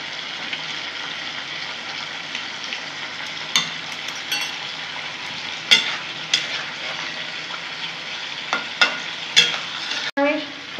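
A vegetable curry of drumsticks, potato, pumpkin, okra and lentil bori, with sugar and ghee added, sizzles steadily in a pan while a spoon scrapes and knocks against the sides in irregular stirring strokes.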